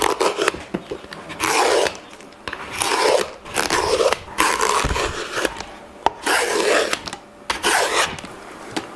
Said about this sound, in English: I'll simply use a peeler, like a carrot or potato peeler,